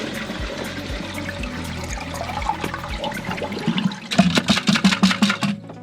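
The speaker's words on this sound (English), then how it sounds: "So with that flushed out, got all the water out there" Water flushing out of a home plumbing system during a leak repair, a steady rushing gush that swells into louder gurgling splashes toward the end, heard close up with no talking.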